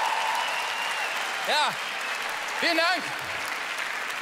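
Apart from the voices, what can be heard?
audience applause at a comedy show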